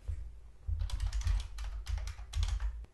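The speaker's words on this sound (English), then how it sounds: "So I just typed up a message to this new member, and I just sent it to him." Rapid typing of a message on a computer keyboard, in several dense bursts of close, clattering keystrokes with short pauses between, and no voices.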